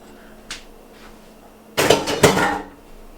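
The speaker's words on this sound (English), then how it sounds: "To that, we're going to add our lentils." Lentils tipped into a pan of sautéed carrots, celery and onions, a short burst of clattering and rattling against the pan after a couple of light knocks, close and fairly loud.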